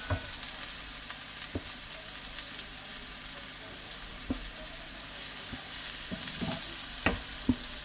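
Carrots frying with cabbage and mushrooms in a pan for stewed cabbage, a steady quiet sizzle broken by several sharp clicks and scrapes of a utensil stirring, no talk.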